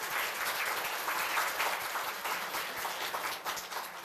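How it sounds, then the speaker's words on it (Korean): An audience at a university labour culture award ceremony claps to welcome guests, a dense, even burst of applause from a seated crowd, moderately loud and continuous for about four seconds. "큰 박수로 맞이해주시기 바랍니다."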